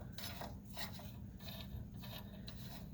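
A socket wrench works a bolt loose on a John Deere Z445 zero-turn mower, a faint, repeated rasping ratchet click in short strokes over low background noise.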